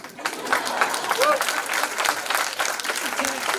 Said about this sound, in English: you can clap once in a while, actors love it